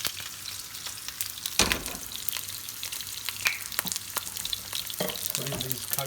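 Green chilies crackle and sizzle in hot oil with cumin seeds, a steady frying hiss broken by sharp pops and a few stirring clatters.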